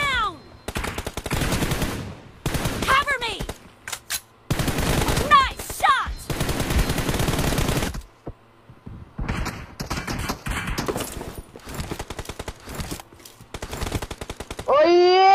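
Rapid automatic gunfire from a first-person shooter game rattles in repeated loud bursts separated by short pauses, with a player talking between volleys.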